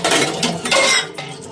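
Dishes, pots and steel utensils clatter and clink steadily up close as they are rinsed with a little water in a home kitchen, with no voices.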